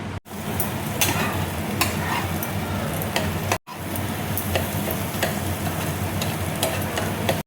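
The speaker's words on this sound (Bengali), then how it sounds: "তেল দেখো গরম হয়ে গেছে। এবার আমি ডিমটা দেখো দিয়ে দিচ্ছি।" Salted beaten egg poured into hot oil crackles in a loud, continuous sizzle with scattered pops and scraping stirs, up close, broken by two brief cuts of silence.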